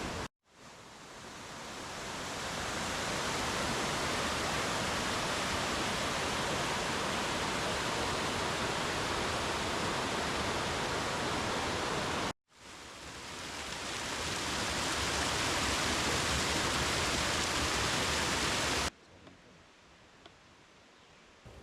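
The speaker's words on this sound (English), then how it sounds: "we went down to the creek and enjoyed some spectacular waterfalls" Waterfalls at a creek pour in a steady, dense white rush, loud and close, cutting out briefly partway through and fading to quieter background near the end.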